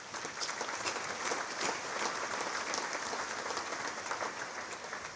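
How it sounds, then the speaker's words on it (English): Sustained applause from a large congress audience in a hall, a steady dense wash of clapping that holds at an even level throughout with no voices on top. "So let's make an applause to the FIFA administration."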